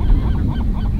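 Geese-like birds honking at sunset near Guerrero Negro in Baja Mexico, a short burst of several overlapping honks, fairly close and loud.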